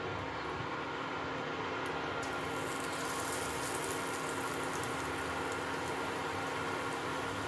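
Eggplant slices coated in gram flour batter fry in hot oil, giving a steady, dense sizzle and crackle that runs unbroken for several seconds with no voices.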